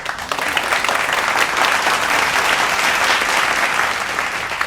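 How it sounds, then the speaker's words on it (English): Audience at a live watch party for the TV drama Saali Mohabbat breaks into applause, a full, loud burst of many hands clapping that runs steadily for nearly five seconds without talk. "just one clap, please"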